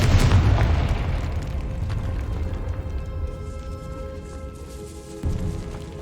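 A Confringo spell explodes in the video game Hogwarts Legacy, bursting loudly at the start into a deep boom that rumbles and decays over several seconds, with a smaller thud near the end.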